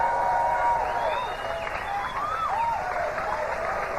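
An Australian rock concert crowd cheers and applauds loudly and steadily, with whistles and shouts rising above dense clapping throughout.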